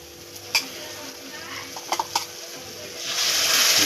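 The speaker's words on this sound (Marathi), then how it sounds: "आपण आता त्याच्यात टोमॅटोची पेस्ट टाकूया" Tomato paste stirred into a browned ground masala in a pan for a clam curry, with a few sharp spoon scrapes and clinks over a soft sizzle that swells louder toward the end.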